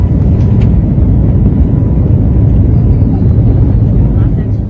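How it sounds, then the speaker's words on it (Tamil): Airplane taking off, heard from inside the cabin as a loud, steady engine roar and rushing drone that fills the whole stretch without letup. "ஸோ ரொம்ப ஹாப்பியாக நம்மளோட டேக் ஆஃப் ஆகிடுச்சு."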